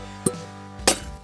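Bits of glass clink twice against a frying pan while homemade fire starters are being made, two short sharp chinks about half a second apart with quiet between them.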